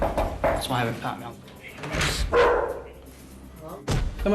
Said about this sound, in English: is it possible to have a look at this dog I've just heard barking now?